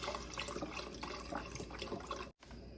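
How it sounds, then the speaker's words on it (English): Stock pouring into a cooking pot, a soft continuous liquid splashing and gurgling that stops abruptly near the end, quiet and close with no voices. "now we're adding the stock"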